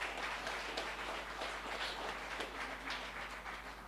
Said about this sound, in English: Give the minister a round of applause.